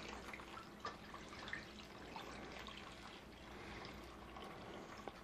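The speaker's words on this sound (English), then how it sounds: "You're going to want to put about an inch of water in the pan." Water runs steadily into a baking pan to about an inch deep while spaghetti squash is cooked, a faint continuous pouring trickle with small splashes and no talking.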